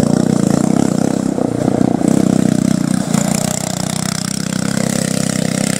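A racing lawnmower speedmower runs as a loud, steady engine drone, roughly even throughout with a brief dip near the middle, no voices over it.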